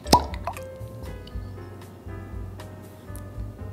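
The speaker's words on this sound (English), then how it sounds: "this is a big ass cork, so I'm expecting a big ass sound" Cork pulled from a Four Roses Small Batch whiskey bottle gives a single sharp close pop at the start, followed by faint low room sounds.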